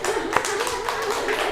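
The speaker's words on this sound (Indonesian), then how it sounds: "Beri tepuk tangan" A classroom audience claps together for a presenter, a dense burst of applause with one sharper clap standing out near the start, steady and close, without talk.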